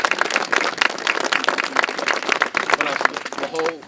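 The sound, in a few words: audience applause at library opening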